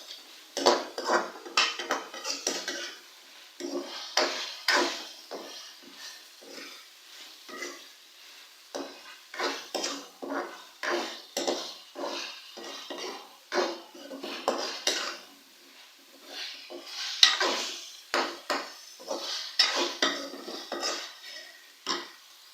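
Chicken masala is stirred in a pot, giving repeated scraping and clinking of a spoon against metal in an uneven rhythm, fairly quiet and close, with no talking.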